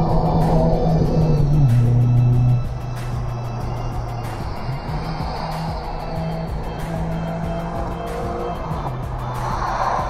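Cars pass one after another on a fast downhill road descent near Villeta, with a loud engine drone that drops in pitch as a vehicle goes by, then a steady road roar and repeated ticking.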